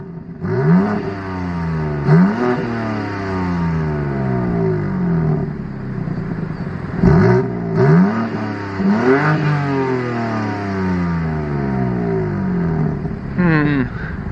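A car engine revs hard again and again, each rising roar climbing toward the rev limiter before dropping back, loud and close, with a few rapid bursts near the end.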